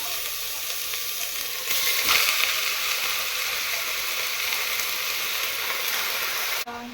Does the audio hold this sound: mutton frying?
yes